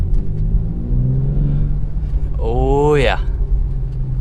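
A 2020 BMW X3 M accelerating, the engine note rising steadily in pitch through the revs, then a quick upward sweep before easing back, heard from inside the cabin with a person speaking briefly over it.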